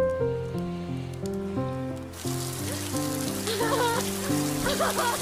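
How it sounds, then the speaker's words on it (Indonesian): Steady rain pours down in a survival-at-sea film scene, a dense continuous hiss of drops beginning abruptly partway through, layered under a sustained musical score. "tiba-tiba saja hujan turun dan tentunya membuat Tami merasa sangat bahagia"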